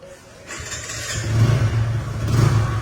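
A TVS Apache 160cc motorcycle starts and settles into a steady, close engine idle with a low rumbling drone that swells slightly, heard alone without talk.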